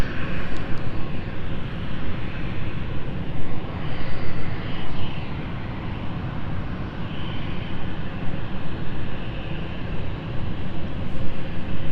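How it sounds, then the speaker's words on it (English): Chambery-bound airliner taking off at London City Airport, a loud sustained engine roar that swells and fades slightly in waves throughout, heard alone with no talk. "So we're going to watch our Chambery flight take off."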